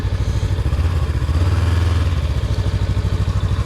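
A 2020 Honda CB500X motorcycle rides in second gear during parking lot exercises, its mid-pitched engine chugging with a steady pulsing rhythm and a brief rise in revs midway, close and loud with no talk.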